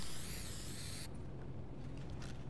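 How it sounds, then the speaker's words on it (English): A spray paint can hisses in Fortnite, a bright loud burst of spraying for about a second that cuts off abruptly, leaving quieter game ambience. "I sure know how to spray paint though."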